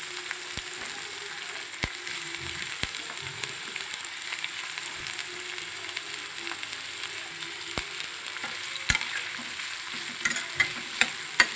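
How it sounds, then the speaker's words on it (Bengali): Chopped capsicum is stir-fried with spicy chilli chicken in a pan, giving a constant light sizzle with a spatula tapping and scraping at irregular moments. "এবার আমি 2 থেকে 3 মিনিট ভেজে নেবো, হালকা ফ্রাই করে নেবো।"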